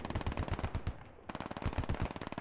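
Rapid automatic gunfire in a military shooter game, rounds hammering at a Stryker armored vehicle in fast steady bursts with a brief pause, close and loud, no talking.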